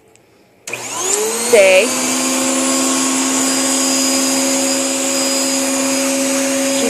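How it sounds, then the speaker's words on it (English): A vacuum cleaner starts up and runs steadily in a dark room while being used to groom a shedding dog, its loud constant whine continuing throughout, with a brief spoken command near the start. "going to vacuum to her today because she sheds a lot"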